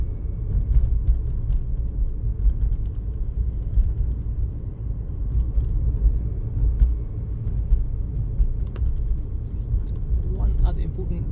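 A car accelerating to 30 mph on a clear road gives a low, steady engine and road rumble that runs throughout with no clear rise, heard from inside the cabin under near-constant talking.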